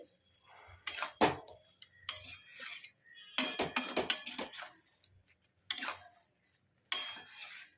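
Salt being stirred into shredded cabbage in a cooking pot with fish head, a few bursts of spoon scraping and clinking against the metal pot, close and fairly faint, separated by short pauses.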